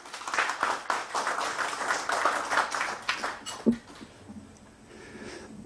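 An audience at a book launch event claps to welcome a speaker, a brief round of applause that fades into quiet room noise.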